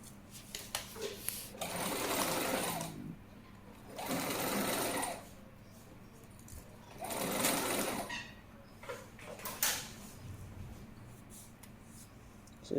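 Sewing machine stitching a lining to the sleeve of a lace blouse, running in three sustained bursts separated by pauses, close and fairly loud.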